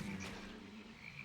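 Toads croak in the game Albion Online, a low burbling croak close by with a faint second call, over a steady ambient background without speech.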